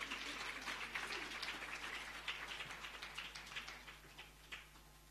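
Audience applause fills a hall at a policing symposium as a woman walks to the stage: steady, dense clapping from many hands that slowly thins toward the end, with no voices over it.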